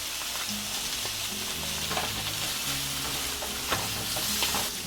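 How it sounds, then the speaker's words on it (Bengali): Potatoes frying in hot oil while being stirred, a steady close sizzle with scraping spoon strokes and faint kitchen hum underneath, no voices. "ফুলকপিগুলো ভাজা হয়ে গেছে, এবার আলুটাও ভেজে নিব।"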